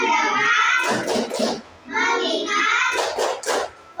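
A class of children does the 'tepuk fokus' clap routine, sharp clusters of claps between bursts of chanted voices, loud and close.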